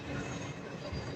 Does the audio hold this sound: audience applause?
no